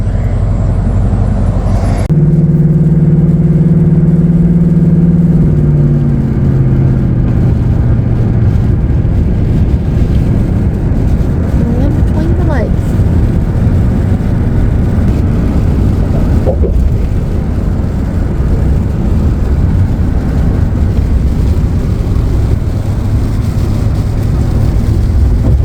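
A 1990 Ford F150 XLT Lariat truck engine runs steadily and loudly throughout, a continuous low rumble with a brief rise in pitch early on and no voices.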